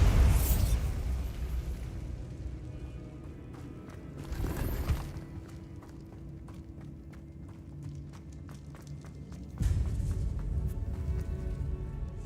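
A Bombarda spell explosion in the Hogwarts Legacy video game goes off as a loud burst, with another heavy blast later and a low rumbling game backdrop between them.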